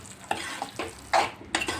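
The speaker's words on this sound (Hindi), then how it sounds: "इसको अच्छे से मिक्स करें।" Cut potatoes are stirred into sizzling fried spices in a pan for a Hindi-style potato and pea curry, with a spoon scraping in repeated strokes about every half second over a constant close frying sizzle.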